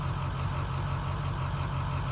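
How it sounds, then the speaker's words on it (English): A pickup truck with a trailer hooked up idles steadily nearby in the early morning, a low, even engine rumble that holds constant throughout without any talking. "am I walking around with the truck idling, with the trailer hooked up"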